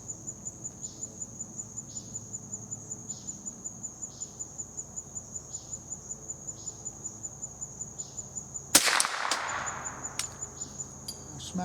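A Glenfield "Squirrel Stock" .22 rifle shot strikes a swinging target with a single sharp crack and a brief ring. Steady, pulsing cricket chirps fill the outdoor air before and after it.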